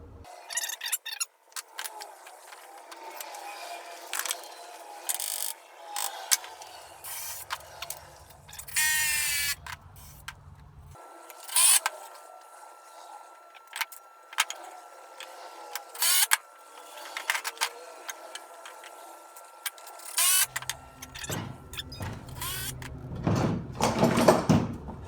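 Screws driven with a power drill to join 2x4 parts of a shaving horse, several whirring bursts of varying length separated by pauses and handling clatter, close and without talk.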